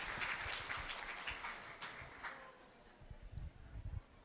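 Audience applause at an Indonesian seminar, faint and distant, with a scatter of claps that thins out over a few seconds.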